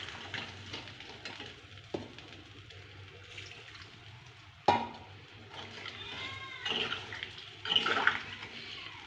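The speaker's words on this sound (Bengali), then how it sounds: "এবার এতে আমি অল্প পরিমাণে জল দিয়ে দেব।" Water is poured into a pot of cauliflower and potato curry, giving a soft splashing trickle with light clinks of utensils against the pot at close range.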